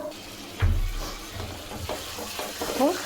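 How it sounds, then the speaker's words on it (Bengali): Water goes into a pan of frying spice paste for a jackfruit curry, a thump followed by a burst of sizzling and bubbling that settles into steady frying with light stirring, close and moderately loud. "এর মধ্যে একটু হালকা জল দিয়ে দেবো"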